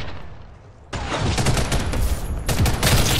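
Intense gunfire in the Ghost in the Shell shooter video game: a quieter opening gives way to a loud, dense fusillade of rapid shots that swells again near the end.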